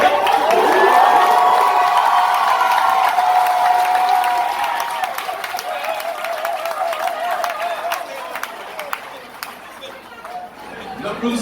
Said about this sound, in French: N'applaudissez pas trop fort,